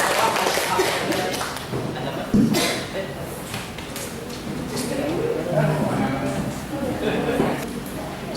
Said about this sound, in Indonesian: Kita kasih aplaus dulu buat kedua penyaji.